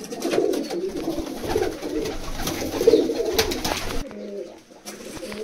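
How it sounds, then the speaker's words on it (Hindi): A Tafa pigeon, a racing breed, coos repeatedly at close range: low, rolling calls in several bursts, loud and clear with no talking. "तो भाइयों ये कबूतर है जी ताफा"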